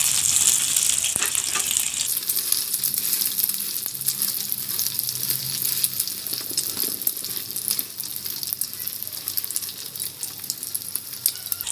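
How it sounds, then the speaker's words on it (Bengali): An egg with a flatbread set on top fries in a pan for an egg roll, giving a steady, close sizzle that crackles throughout and eases slightly toward the end, with no talking. "ডিমটা ভাজা একদিক হয়ে গেলে তারপর আমি উল্টাবো।"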